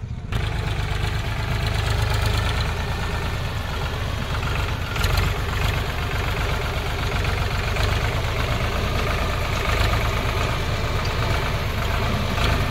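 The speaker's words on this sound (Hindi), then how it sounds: "ट्रैक्टर का आना जाना लगा ही रहता है, एक आ रहा एक जा रहा।" Powertrac 443 tractor engine lugging a trolley loaded with 80 quintals of straw along a rough road, a steady loud low rumble with knocking chug running throughout, close by and without talk.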